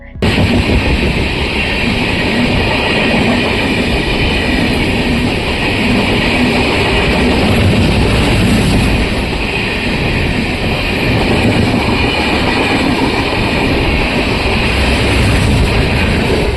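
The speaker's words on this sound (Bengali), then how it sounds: "বিধাননগর রেলওয়ে স্টেশনের একদম সামনে বেশ কয়েকটি এক্সপ্রেস ট্রেন পাস হলো" Several express trains rush past right by Bidhannagar railway station, a loud, unbroken roar and rattling rumble heard close by from a halted train for the whole stretch.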